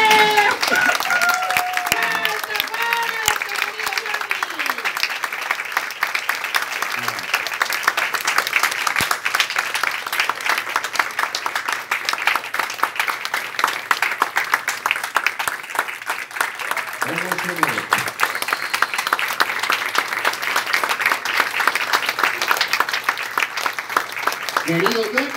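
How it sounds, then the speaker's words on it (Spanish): Audience applauding a veteran string-marionette puppeteer at an International Puppetry Day tribute, steady sustained clapping throughout with occasional voices and murmurs over it. "¡Pongámonos de pie y aplaudámoslo como merece!"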